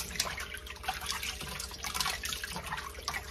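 Cold water runs steadily into a sink while raw chitterlings are washed, a soft continuous splashing trickle with small drips and sloshes close by, no talking.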